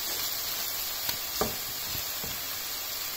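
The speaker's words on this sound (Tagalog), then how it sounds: "Sinutay ko lang yung beef na giniling" Ground beef sizzling steadily in a pan for shepherd's pie, with carrots and onion in the mix, a constant close hiss broken by a few soft spoon taps as it is stirred.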